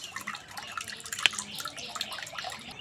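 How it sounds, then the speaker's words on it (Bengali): Blended watermelon juice strained through a sieve, giving a steady soft trickle of liquid with scattered drips and one sharp tap near the middle, heard close and alone. "এবারে এই তরমুজের আমি জুসটা বার করে নেব, তার জন্য আমি ভালো করে ছেঁকে নেব।"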